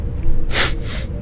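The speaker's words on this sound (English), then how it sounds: "Sorry for the sniffles, I'm a little stuffed up." A single wet, congested sniff through a blocked nose, fairly close, followed by a softer second inhale, with low background hum.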